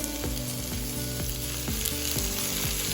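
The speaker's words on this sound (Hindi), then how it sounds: "इसको भी अच्छे से चला के भून लेते हैं।" Tomatoes stirred and fried with browned onions, a dense steady sizzle with a spoon scraping the pan at a regular pace roughly every half second, close and continuous.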